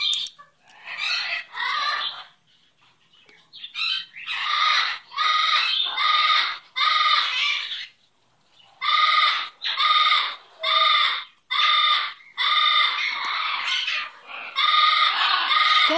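A pet bird named Dukie calls again and again at close range, loud, harsh, squawking bursts in irregular runs with short pauses between them and no voices over them.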